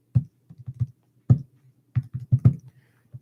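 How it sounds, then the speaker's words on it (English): Separate key taps on a calculator as numbers are entered, a quick irregular run of soft clicks with short pauses between them, close by and with no talking. "I have to type in this information into the calculator"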